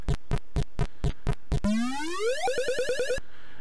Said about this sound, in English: That's the sound of your power restoring.